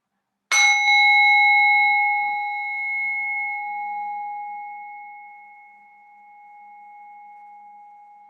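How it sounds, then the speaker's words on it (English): A meditation bell or singing bowl is struck once to close a Shavasana yoga practice, giving a clear bright ring that sustains and slowly fades for several seconds in a quiet room. "the sound of the bell just to bring the practice to, or this Shavasana meditation to a close"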